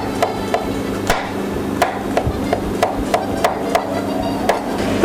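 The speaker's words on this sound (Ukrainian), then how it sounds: "Нарізаємо шампіньйони такими більшими кусочками" Knife chopping champignon mushrooms into large pieces on a cutting board for a mushroom cream sauce: a steady run of sharp, close thwacks, roughly a dozen evenly spaced cuts with faint kitchen background between them.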